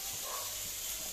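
Fish going into hot cooking oil, giving a short, even hiss of sizzling at low volume with no break or change.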